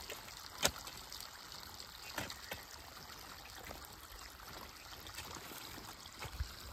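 Water trickles and flows steadily while a field is irrigated outdoors, a faint continuous stream with a few soft splashes and no talk.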